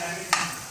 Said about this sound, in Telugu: ఇలాగా 1 or 2 minutes కంపల్సరీ మసాలా వేగేలా ఉండాలి